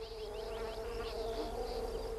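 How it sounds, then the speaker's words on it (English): Bees buzz steadily in warm, dry weather while visiting flowers, a continuous close drone with faint wingbeat overtones and no voices. "On warm, dry days, many bees are out and about."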